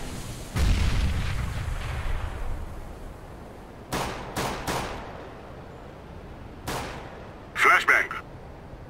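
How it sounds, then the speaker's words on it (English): In the CS:GO match on the Dust2 map, a grenade goes off with a loud boom that decays slowly. Several sharper gunshot-like bursts follow, then a bright, loud crack near the end. "I'm throwing a grenade"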